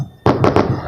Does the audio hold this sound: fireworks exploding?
yes